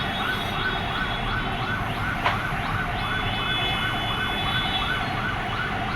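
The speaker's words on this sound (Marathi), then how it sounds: "ॲम्ब्युलन्स आहे वाटतं ॲम्ब्युलन्स आहे" An ambulance siren wails steadily at a fire at a jeans pant factory. The cycling rise and fall repeats without a break across a busy road background, fairly loud, with no talk.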